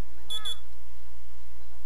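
In The Sims 4 video game, a timer alarm sounds twice in quick succession as a pair of loud, bright electronic beeps, then a steady low hum carries on.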